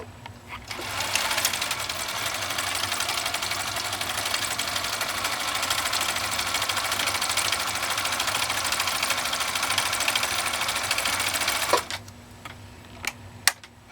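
A 1958 Husqvarna Viking 2000 sewing machine hums and chatters steadily for about eleven seconds while sewing a decorative stitch pattern, then halts, followed by a few sharp clicks.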